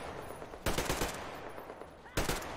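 Two bursts of gunfire in Metro Exodus, played on Ranger Hardcore mode, each a short broadband blast standing out loudly over a steady background.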